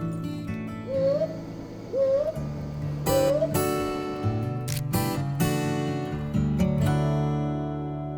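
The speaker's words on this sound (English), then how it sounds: "we could hear the haunting call of a brown boobook in the yard" A brown boobook owl calling in a homestay yard at Rongtong, India, with three or four short rising hoots spaced about a second apart, partly masked by louder tonal sounds in the foreground.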